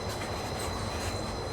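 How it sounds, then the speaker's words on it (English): A Disneyland monorail train, the orange one, rolls past on its turn toward Downtown Disney, giving a steady, moderately faint rumble and rattle of wheels on track. "Looks like we got monorail orange making that turn right there"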